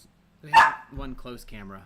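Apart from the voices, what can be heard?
dogs barking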